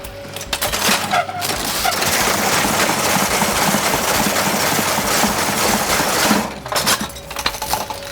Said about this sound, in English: the green string will go back and forth through stitching the broom up